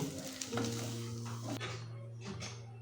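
Vegetarian banana stem ghonto being stirred in a pan, with a utensil scraping and clinking against the metal over a soft, steady cooking hum, close and moderately quiet.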